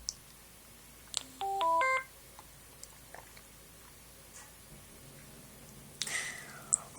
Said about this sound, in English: So let me turn this guy on and I'll show you what it sounds like.